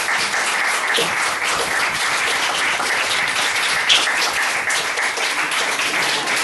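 Sustained applause from a large audience after a lecture, steady dense clapping filling the hall at an even level throughout with no voices over it.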